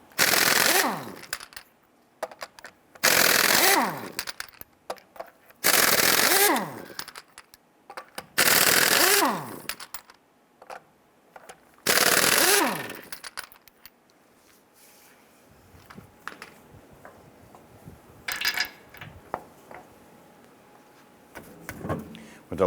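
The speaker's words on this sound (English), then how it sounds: "Using your 19mm socket, loosen and remove your lug nuts." Lug nuts come off a 1994-2004 Ford Mustang wheel with a 19mm socket, five loud, close rattling bursts of a few seconds each, followed by quieter clanks and handling noises.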